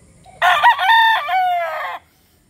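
One loud, close crow from a Boston Black rooster lasts about a second and a half, with a sharp onset, a brief break near the start and a long drawn-out tail before it stops cleanly.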